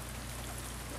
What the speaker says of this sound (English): It's always raining.